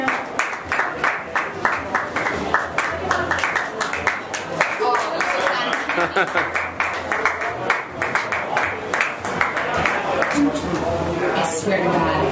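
An audience at a live homemaker appearance applauds, a dense run of sharp claps repeating steadily throughout and fairly close, with a voice briefly speaking over it and cheering near the end.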